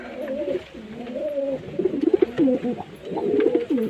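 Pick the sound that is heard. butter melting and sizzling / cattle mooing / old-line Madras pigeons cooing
old-line Madras pigeons cooing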